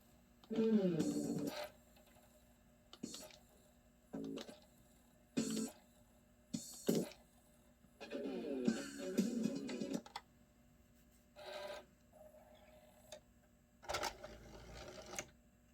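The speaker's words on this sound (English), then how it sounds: "I don't know if you can hear the drive, but it is exactly how it's supposed to sound" Sega CD Model 1 disc drive spinning and seeking after repair, giving short mechanical whirring bursts that come and go in a quiet room, with soft talk at times.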